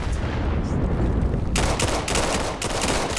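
Rapid bursts of automatic gunfire in the VR shooter Vail during a competitive playoff match, starting about halfway through as loud, dense volleys of close shots.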